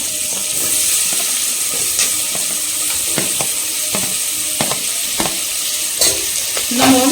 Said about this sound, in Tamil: ஆனியனும் கிரீன் சில்லியும் வந்து சேர்த்துக்கிறேன்